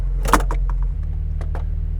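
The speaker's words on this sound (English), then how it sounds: "You're going to unlatch each side." Latches on a 2007 Honda S2000 convertible top are released with a few sharp plastic and metal clicks over the car's steady idling engine hum, up close inside the cabin.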